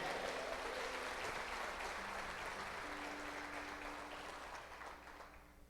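A church congregation applauding during a sermon, a soft, distant wash of many hands clapping that gradually thins and fades, with a faint low hum beneath.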